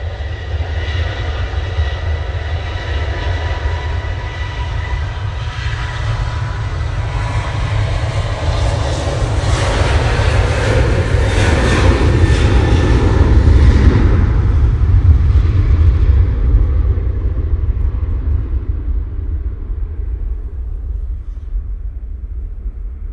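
A Ryanair jet on its takeoff roll at Manchester Airport on a windy day, a loud, steady engine roar that swells and climbs in pitch toward the middle, then slowly fades and dulls as the aircraft moves away.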